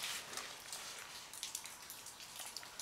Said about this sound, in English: it's raining upstairs today, so it's definitely dripping quite a bit